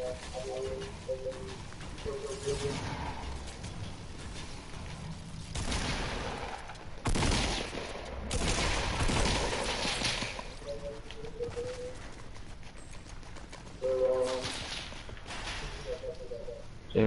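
Gunfire from Fortnite play, bursts of shots scattered across the clip with a dense cluster in the middle, heard under ongoing game noise and occasional background chatter.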